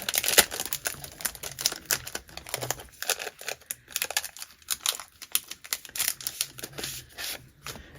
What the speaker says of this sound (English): I'll pull out just the envelope to show you.